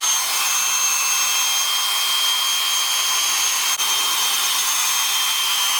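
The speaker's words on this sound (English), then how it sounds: "putting the brush underneath the hairdryer with the nozzle fillet facing downwards because you want that airflow to go down to smooth the cuticle" Hair dryer blowing on medium heat at high speed, a loud, steady, close hiss of airflow with a brief dip in the middle, no speech.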